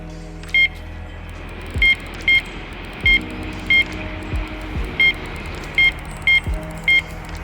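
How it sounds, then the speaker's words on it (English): A fishing bite alarm beeps repeatedly in short, irregular single tones, clear and close, over quiet outdoor background with a few low thumps, as a pike takes the bait. "The alarm's going."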